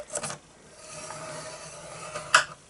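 A scoring tool scrapes along paper for a square fold-flat gift box, a soft continuous rasping drag with a sharper scratch near the end, close and alone.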